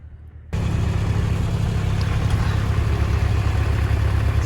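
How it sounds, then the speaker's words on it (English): An old farm tractor's engine cuts in abruptly after a quiet moment and settles into a loud, steady low-pitched idle with an even throbbing chug, close by and uninterrupted. "Dad's brought the old tractor up and he's going to bring a roller down."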